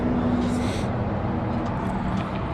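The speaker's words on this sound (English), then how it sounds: "you can hear the motor" A 1965 Chevrolet Biscayne engine runs steadily close by, a continuous broadband rumble holding an even level throughout with no clear rhythm or breaks.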